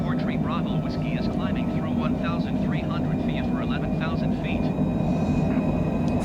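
An airliner climbs after takeoff from Dublin in a flight simulator game, with a steady, loud engine drone throughout while someone talks over it.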